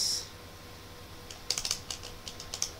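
Keys tapped on a computer keyboard while a terminal command is entered, a quick irregular run of close, crisp clicks following a quiet pause, with no voices.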